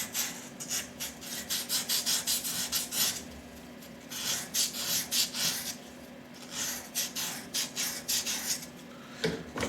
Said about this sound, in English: I will hit it with some 400 grit emery cloth